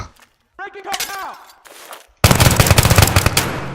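Bursts of automatic gunfire in the video game Battlefield 3, a loud dense volley of shots filling the second half after earlier muffled game sounds and a brief voice.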